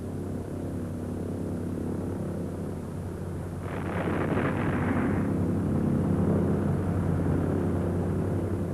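A medium-range bomber drones steadily overhead with a low propeller-like hum. A brighter, rushing swell builds midway and then settles into a louder, sustained roar.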